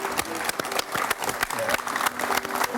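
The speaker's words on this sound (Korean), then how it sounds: "여러분 박수 한번 부탁드립니다." Studio audience clapping on a KBS television show, a few seconds of dense, steady applause with a voice speaking over it.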